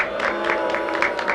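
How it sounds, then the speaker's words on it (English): A brief burst of crowd applause, steady and fairly loud, with rapid overlapping claps lasting about a second and a half. "round of applause"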